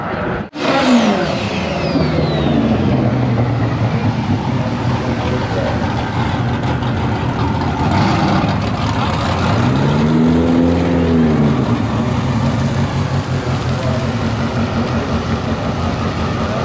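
A car with a Mitsubishi 4G63 engine revs hard in the pits at a drag-racing event. A sharp start gives way to a loud, sustained roar that climbs and falls in pitch, with crowd noise and voices around it.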